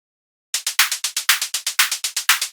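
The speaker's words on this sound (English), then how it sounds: "Then we have these synthesized hi-hats." Dry synthesized analog hi-hats built from a burst of noise, in an EBM drum pattern. They tick in a fast, steady run of about sixteen short, bright, hissy hits, some slightly accented, heard close and alone after a moment of silence.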